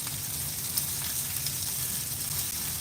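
Onions sautéing in a pan, giving a dense, even sizzle with a soft crackle, close and steady throughout with no speech.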